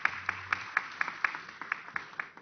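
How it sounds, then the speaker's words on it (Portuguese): Rhythmic, fairly sparse clapping from a conference audience greeting a speaker at a banking technology event, individual claps landing in a steady pulse, somewhat distant and soft. "Palmas para ele."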